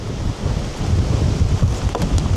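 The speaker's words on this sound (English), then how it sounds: "did you feel that wind?" Strong gusts of stormy wind in Snowdonia buffet the microphone outdoors by a lake, a loud, uneven roar that surges and falls continuously, with no talking.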